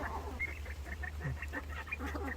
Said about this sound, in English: I've heard noises I'd never heard these quails make until I gave them the worms